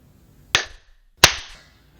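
Two sharp, loud hand claps, close up and about seven tenths of a second apart, each with a short ringing tail in an otherwise quiet space.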